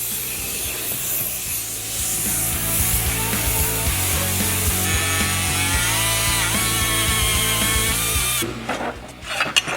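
A power drill boring holes through aluminum strips used to extend pedal rods, a loud steady whining grind with shifting pitch as the bit cuts, ending in a few clanks and rattles.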